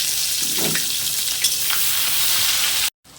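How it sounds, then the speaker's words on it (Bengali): Chopped onions tossed into hot oil for a soybean curry sizzle loudly and steadily up close, with brief stirring scrapes, before the sound cuts off abruptly. "তো ওর মধ্যে আমি কুচিয়ে রেখেছিলাম ছোট ছোট করে পেঁয়াজ, তো পেঁয়াজগুলো দিয়ে দেবো।"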